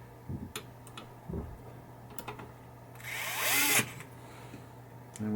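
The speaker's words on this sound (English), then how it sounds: "And then I'm just tightening the screws." Screws being tightened on a 1972 Chicago Coin Casino pinball chime box: sparse light clicks and taps, then a brief louder whirring burst of a driver near the end, close by with no talk.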